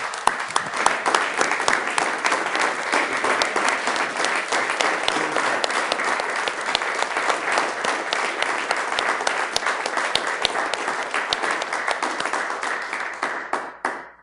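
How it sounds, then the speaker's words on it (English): Dense, sustained applause from a city council meeting audience giving a standing ovation, steady and loud for about fourteen seconds before tapering off at the end, with no talk over it. "let's give a round of applause, maybe even a little standing ovation for Janelle"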